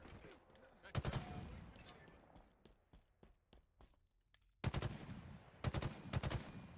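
Rapid gunfire from Halo Infinite gameplay, with bursts of automatic shots and sharp single cracks set against game ambience, loud and close, with quieter gaps between the volleys.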